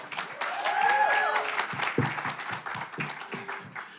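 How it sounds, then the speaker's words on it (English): Audience applause for a crew on stage at a panel conversation, a dense spread of claps with some cheering voices, fairly close, tapering toward the end. "Final round of applause for our crew up here."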